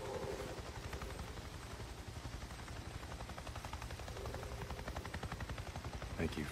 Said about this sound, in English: The chopper's that way.